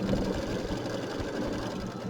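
A sewing machine stitches a stippling pattern across a quilt block, its needle running in a steady, fast mechanical hum with soft rhythmic knocking throughout, close and continuous with no voices.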